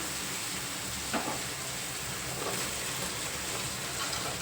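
Boiled raw prawns frying in oil with masala in an Andhra-style prawn gongura curry, giving a steady, fairly loud sizzle with a few faint stirring scrapes and no talk.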